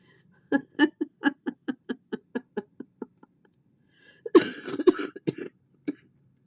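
A rapid series of about a dozen dry coughs in a steady rhythm, then a brief burst of rougher throat-clearing coughs, close and fairly loud.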